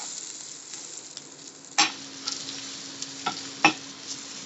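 Red chili, turmeric and salt are stirred together in a frying pan, with a quiet sizzle under several sharp spatula scrapes and knocks spaced irregularly, close by.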